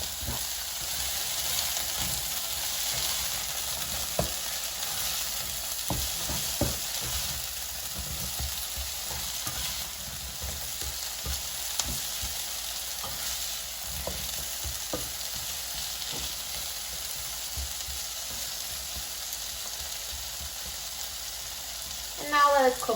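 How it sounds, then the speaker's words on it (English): Zucchini sautéing in a frying pan on a stove, a soft, steady sizzle with occasional faint stirring clicks, low and fairly distant, ending with a brief louder clatter. "Now let's stir the zucchini."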